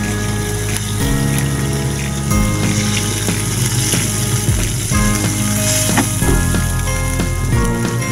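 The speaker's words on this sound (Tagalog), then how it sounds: "Maglagay tayo ng lemon soda." Lemon soda poured into a hot pan, giving a steady, close hiss and sizzle with bubbling throughout and no talking.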